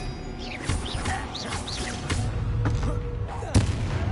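Spellcasting whooshes and magical impact bursts from the Expelliarmus disarming charm in Hogwarts Legacy, several swishing zaps and a sharp crack near the end, over ambient battle noise.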